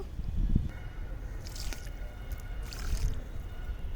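Liquid fertilizer trickles slowly from a container onto a garden plant, with soft wet splashes and squishy drips against low background rumble, quiet and close.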